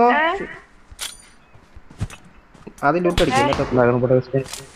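Sniper rifle shots in a video game, a few sharp isolated cracks spaced apart between bursts of excited talking.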